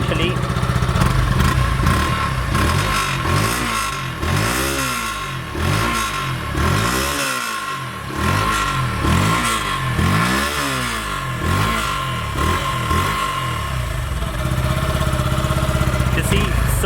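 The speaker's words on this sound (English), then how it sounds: "I really like the exhaust note, and it's really different from its previous versions" Close exhaust note of a Yamaha FZ-S V3.0 150cc motorcycle revved repeatedly, each blip rising and falling in a regular rhythm over a steady idle, loud and unaccompanied by talk.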